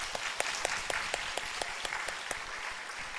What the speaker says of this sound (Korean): 힘내시라고 우리 박수 한번 하겠습니다.